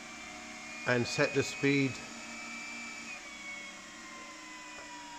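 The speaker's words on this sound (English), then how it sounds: "it's asked us to turn the spindle on" A CNC4YOU MM25L CNC mill spindle runs with a steady high whine and low hum, while someone speaks briefly over it.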